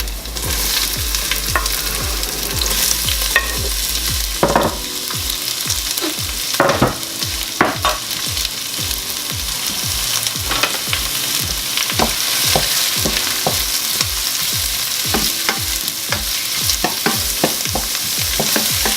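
Garlic and onions sizzling and frying in a pan at the start of an all-meat chili, a steady close crackle with repeated scraping stir strokes throughout, no voices.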